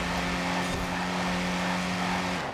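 A Willys Jeep from 1945 with all-wheel drive, raced in a Forza Horizon 4 rally or cross-country event, gives a steady loud engine drone with a strong low hum, running without pause until it drops off near the end.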